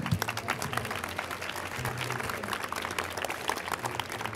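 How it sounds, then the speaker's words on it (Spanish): An audience at a social media metrics talk applauds the speaker Iván, a steady wash of many hands clapping at moderate level, continuous throughout with faint voices underneath. "Un aplauso, ¿no? Por favor."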